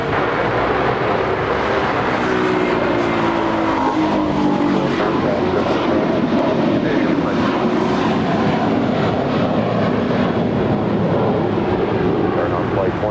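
Jet airliner taking off from runway 25 right at LAX, a loud sustained engine roar filling the whole stretch with steady broadband rumble, heard from the airport perimeter.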